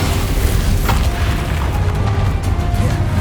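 Bombarda explosion spell cast during a boss battle in the video game Hogwarts Legacy, a dense, sustained rumbling blast with bursts and crackles layered over a continuous loud low roar, no talking.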